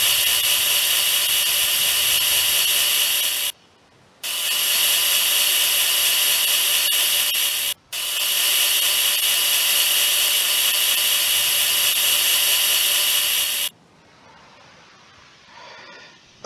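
Power sanding on a model car body during assembly, a loud continuous broadband whir running in long stretches with brief pauses, then stopping into quieter scratchy handling noise.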